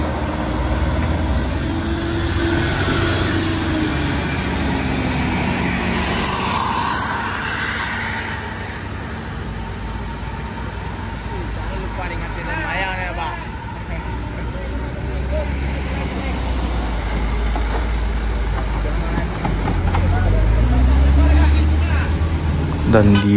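A passenger bus labours along the steep Sitinjau Lauik mountain road, its engine a steady low drone that swells toward the end, with other traffic and a voice talking over it.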